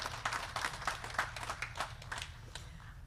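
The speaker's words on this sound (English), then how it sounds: "Another round of applause, ladies and gentlemen." An audience at the official opening of an annual general meeting claps in a sustained round of applause. The many overlapping claps hold steady, fairly close, for the whole stretch.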